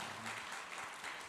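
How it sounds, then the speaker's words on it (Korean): A church congregation applauds together, a dense steady patter of clapping hands filling the room from start to finish, with no voices over it. "우리 한번 힘차게 격려의 박수를 한번 보내주시면 좋겠습니다"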